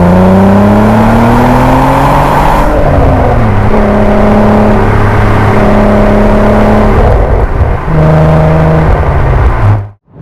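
Narrow-angle V6 in a VW Golf R32 MK4 revving hard, loud and close, its pitch climbing and falling through several rev sweeps before cutting off abruptly at the end.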